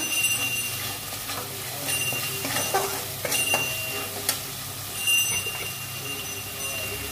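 Black mustard, poppy seeds and green chili paste sautéing in a pan with a steady, close sizzle, broken by scraping stirs and a few sharp clinks.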